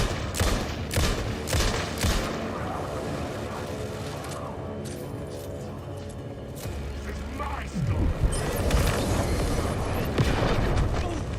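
Rapid gunfire bursts in Alan Wake 2, a string of sharp shots at the start and again later, over a low droning hum and game ambience, with a person talking throughout.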